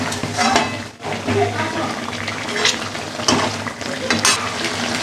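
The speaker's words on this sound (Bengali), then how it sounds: "এবার মশলা দিয়ে ভালো করে কষিয়ে নেব।" Spices for chicken biryani fry in a pan as they are stirred and cooked down, a dense continuous sizzle with scraping of the spoon, close and fairly loud, with a brief dip partway through.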